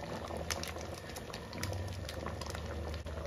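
Sambhar made with dal and masala boils in a full kadhai, giving a steady, close bubbling and popping texture that runs evenly throughout with no talk.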